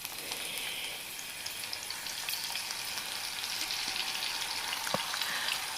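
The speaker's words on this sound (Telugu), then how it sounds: "అలా ముక్కలు ఆయిల్లో వేయించుకోవాలి" Bottle gourd pieces deep-frying in oil, a steady close hiss of sizzling bubbles throughout with a faint clink near the end.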